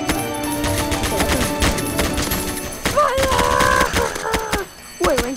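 Rapid automatic gunfire in a car video game, loud continuous bursts layered over game music and engine-like tones, with a brief drop before the firing resumes.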